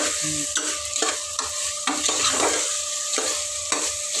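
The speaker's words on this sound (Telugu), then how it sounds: "ఇప్పుడైతే ఇది కలిపేసి పెట్టేసినాను" A spoon stirs green chicken gravy curry in a pan, with repeated close scraping strokes about every half second over a soft, continuous simmer-sizzle.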